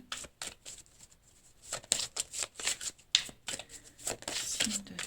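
Oracle cards being shuffled by hand before a single card is drawn for each astrological sign, a run of quick papery riffles and slides in soft bursts, close and moderately loud, with no one speaking over them.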